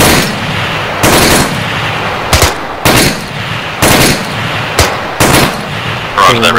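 Bursts of automatic rifle fire in ArmA 3 during a co-op operation in Kunduz, Afghanistan, about seven loud, close volleys in irregular rhythm with brief gaps between them.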